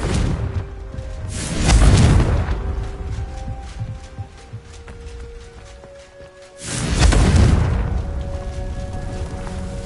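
Confringo spell blasts in Hogwarts Legacy, two loud booming explosions with whooshing rushes, each swelling and fading over a few seconds amid tonal game music and ambience, no voices.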